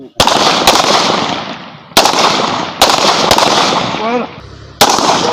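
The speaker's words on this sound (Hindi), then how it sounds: "अपने अपने टारगेट पे फायर करो।" Several loud gunshots ring out at an outdoor shooting range during target practice with 30 bore and 9mm pistols and a 12 bore gun, as spaced single cracks with long echoing tails.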